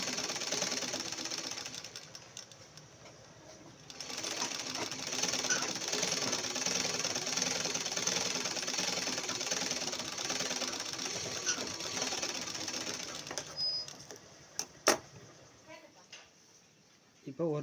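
Domestic sewing machine stitching a chudidar pant, a steady rapid mechanical whirr that runs loud and continuous through the middle, starting and stopping at the edges, with a few sharp clicks near the end.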